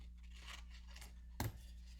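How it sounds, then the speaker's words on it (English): Scissors make one quick, close snip through doubled hot pink fabric, a brief crisp cut that stands out against a quiet room hum. "I'm going to cut this double hot pink one"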